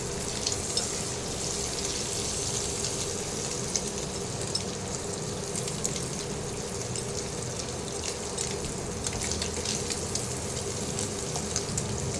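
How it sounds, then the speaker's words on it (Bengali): Paneer cubes frying in oil in a pan, a steady close sizzle and crackle running continuously with no voices. "পনির কিন্তু বেশি ভাজা যায় না বেশি ভাজলে কিন্তু শক্ত হয়ে যাবে অল্প সামান্য ভাজতে হবে"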